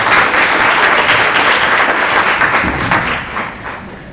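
An audience at an inaugural academic lecture gives loud, sustained applause that tapers slightly toward the end, with no talking over it.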